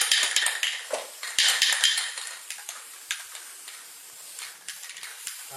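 Black spray paint hissing from a can over a picture, heard as several bursts of bright airy spray, strongest early and fading to shorter puffs, close and without talk.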